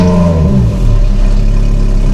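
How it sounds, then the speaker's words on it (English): A car engine cold starting, loud and close, with a rising rev and a rough, clattering mid-pitched roar that settles into a steady high idle. "let's go and enjoy the cold start"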